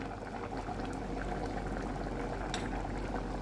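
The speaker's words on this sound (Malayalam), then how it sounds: "കുറച്ച് വെള്ളവും ചേർത്തിട്ട് നന്നായിട്ട് തിളപ്പിക്കുക." Kerala-style chicken curry with roasted coconut paste and added water boils in a pot, giving a continuous low bubbling that stays fairly quiet and close, with no speech.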